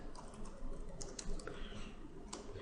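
Quick, fairly quiet typing on a computer keyboard, a run of soft, close key clicks with a few sharper taps.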